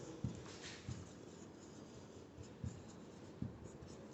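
Chalk or marker writes on a board during a maths lecture on matrices, giving faint scratchy strokes and a few sharp taps over quiet room tone with no talk.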